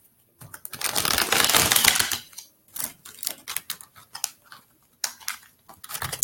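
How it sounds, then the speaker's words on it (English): Tarot cards being shuffled by hand: a long riffling burst of card edges, then a string of short, uneven flicks and taps, faint and close, with no voices. "These cards don't want to shuffle"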